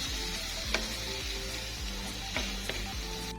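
Pasta ingredients frying in a pan while being stirred until pinkish: steady soft sizzle with periodic scraping strokes of a utensil against the pan, fairly quiet and close.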